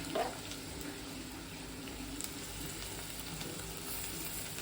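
Onions fry for a Kolhapuri vegetable curry, a quiet, steady sizzle in the pan with a brief clatter at the start and light stirring noises throughout.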